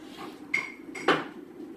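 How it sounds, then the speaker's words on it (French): A spoon scrapes and clinks against a pot while harira soup is stirred, two short metallic knocks close by over a quiet background. "On mélange le tout, ça donne ça. Il faut bien touiller."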